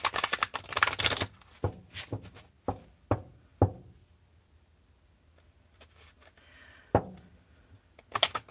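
An oversized tarot deck is shuffled by hand in sharp bursts of riffling and tapping, with a dense flurry at the start, scattered knocks of cards squared against a surface, and quiet pauses between.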